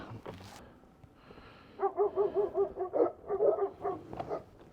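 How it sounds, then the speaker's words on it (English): A dog barks in a quick run of repeated barks, fairly close, followed by a few more irregular barks and yelps. "What are you barking at? Who y'all barking at? Both of them."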